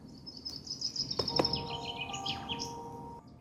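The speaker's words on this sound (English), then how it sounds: "I'm going to just play some meditative bird sounds." Meditative bird sounds played through a Renpho eye massager's speaker, soft chirps and a few short whistled trills over a faint background hiss, fairly quiet and close.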